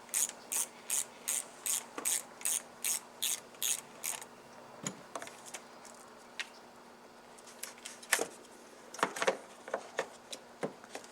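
A ratchet loosening the negative battery terminal on a Tesla Model 3, a close run of about ten quick clicking strokes, then scattered slower clicks and clunks of the wrench and fitting, no talk.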